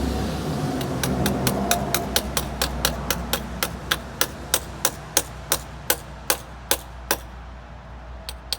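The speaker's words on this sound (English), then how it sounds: "I'm giving the alternator some taps to help it get started." Someone taps on the alternator of a 50cc Peace Sports scooter to help it start, making about two dozen sharp, evenly spaced metallic knocks that grow slightly louder and more spread out over a faint low hum.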